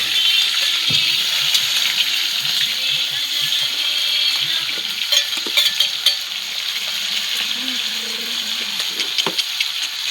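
Chopped onion frying in hot oil in a home kitchen, a steady loud sizzle throughout with occasional stirring scrapes and clinks layered on top.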